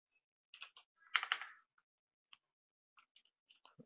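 Typing code on a computer keyboard, a short burst of close, crisp key clicks followed by a few scattered taps in quiet surroundings.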